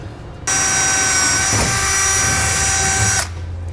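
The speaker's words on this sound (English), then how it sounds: "we're going to drill our holes" A power drill with a small bit whines loudly for about three seconds while drilling holes for a gooseneck trailer hitch on a 2015 Chevrolet, starting abruptly and cutting off, with a brief dip in the middle.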